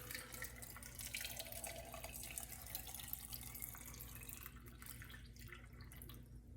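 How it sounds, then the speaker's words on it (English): Cold water pours from a kettle into a glass pickle jar packed with cucumbers, a continuous splashing trickle that carries on steadily for several seconds, close and fairly soft. "Now we're gonna fill it with water."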